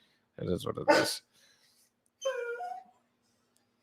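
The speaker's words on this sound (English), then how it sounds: "You guys might hear some barking, some whining at some point tonight." A pet dog, a young pup, gives a short burst of barking and whimpering close by, followed after a pause by a higher whining cry, with a person speaking briefly in between.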